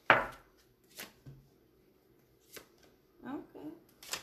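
Tarot cards being shuffled by hand: a few short, crisp riffling bursts spaced apart, close and fairly quiet, with a voice talking softly between them.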